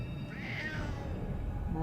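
A single soft meow from a cat, brief and fairly close, rising and falling over a low background hum.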